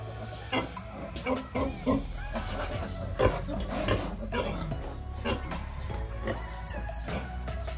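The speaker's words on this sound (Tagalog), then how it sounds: "ito yung isang baboy natin mga ka-breeders" A pig on a breeding farm grunts in a series of close, irregular snorts and oinks against steady low background noise, with no talking.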